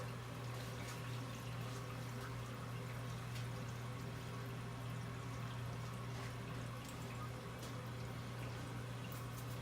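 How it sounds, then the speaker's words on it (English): A toilet flushes and then refills, the water rushing and pouring steadily with a constant low hum beneath, continuous and close for the whole stretch with no talking. "Wow, that's a nice flush."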